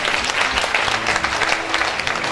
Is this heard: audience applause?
yes